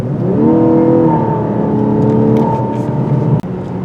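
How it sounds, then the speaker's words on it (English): A 2024 Lexus LC 500h hybrid sports car's engine and exhaust give a steady, loud hum with harmonic tones holding pitch, then shifting slightly lower, continuous throughout with a brief dip near the end. "I think it makes the exhaust sound a bit louder too."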